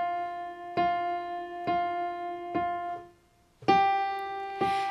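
Piano notes played one at a time with a sustain pedal that is lifted too early, so each note is struck clearly and then cut short, with a brief silent gap before a later note. Close, with no voices.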